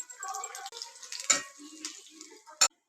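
Millet pongal is stirred in a pot on the stove: soft scraping and swishing strokes with light sizzling, ending in a sharp metallic clink of the spoon against the pot.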